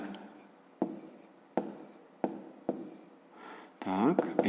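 A pen writes an answer by hand in a fifth-grade maths exercise, a string of short scratchy strokes repeating at regular intervals and ending in a quick flurry of scribbles, with no talk.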